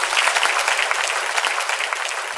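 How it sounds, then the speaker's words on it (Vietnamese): Audience at a Vietnamese singing show applauds a performer with dense, continuous clapping that stays loud and even throughout. "quý vị dành một tràng pháo tay thật lớn dành tặng cho Thiên Ngân thưa quý vị"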